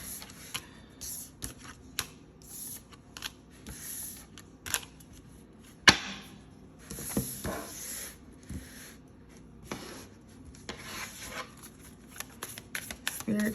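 Tarot cards being shuffled and handled, with a steady run of soft papery riffles and flicks, close and fairly quiet, one sharper snap partway through and no talk.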